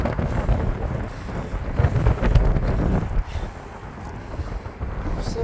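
Strong gusts of wind by a lake buffet the microphone in a continuous low rumble, rising and falling, with no voices.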